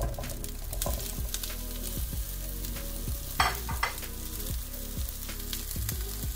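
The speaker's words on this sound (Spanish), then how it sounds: "con muy poquito aceite voy a freír las alcachofas" Artichokes frying in a little oil in a pan for a Murcian rice with turkey dish, a steady close sizzle with repeated scraping stirs throughout and no talk.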